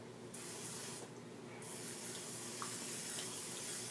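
A Misto pump bottle sprayer mists cooking oil in two quick, close hissing bursts, followed by faint room noise.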